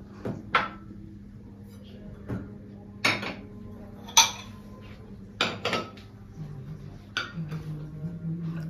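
Plates and spoons are set out in a home kitchen: several sharp clinks and clatters of dishware and cutlery at uneven intervals, close by, with soft handling noises between them.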